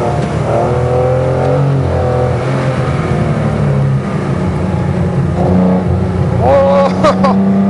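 A Ferrari 308 race car's engine revs hard on a circuit, loud and close, its pitch climbing and falling through gear changes, with a commentator talking over it.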